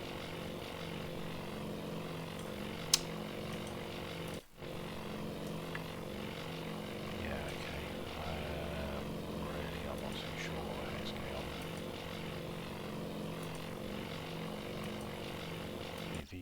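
A propeller fighter plane landing in a WWII naval combat video game, a steady droning engine hum sustained throughout with a brief dropout midway.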